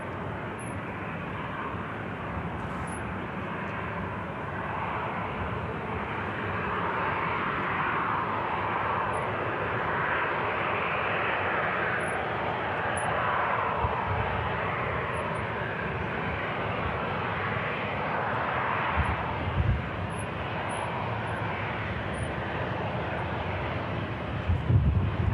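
An Etihad jet airliner departs from Manchester Airport, a sustained broad engine roar building gradually and holding steady for the length of the pass, with wind buffeting on the microphone and no talk.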